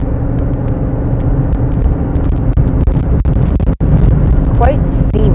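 A car drives along a road between rock cliffs near Horseshoe Bend, Arizona, giving a steady, close engine and road rumble that runs throughout, with a few short clicks and a brief dropout near the end.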